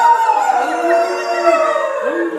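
A group of people at a Toronto poetry reading in a gallery howl like dogs, voices imitating canine howls in a loud, sustained, wavering chorus that carries on without pause throughout.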